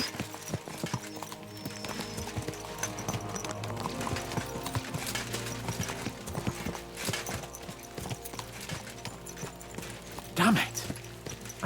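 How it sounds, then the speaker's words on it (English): Horses galloping in the video game Kingdom Come Deliverance 2, rapid rhythmic hoofbeats with a whinny near the end, layered over game music and background voices. "Let's really spur these horses on, eh?"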